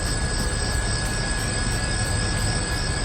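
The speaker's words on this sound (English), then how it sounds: "We're in a helicopter to find them." A helicopter flies steadily in the Persona 4 Arena Ultimax video game, its rotor chop and engine whine forming a constant, loud, close drone with no talking.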